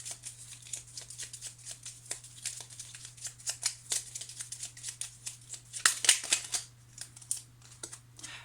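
A Petit Lenormand card deck being shuffled by hand, a close, quiet run of rapid riffling flicks and taps in an uneven rhythm over a steady low hum.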